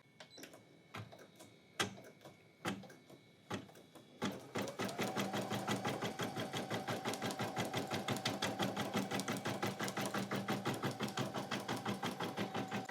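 An embroidery machine stitches a 3D puff foam design, starting with a few separate taps and then settling into a loud, steady, fast rhythmic clatter of needle strikes that runs continuously and close by.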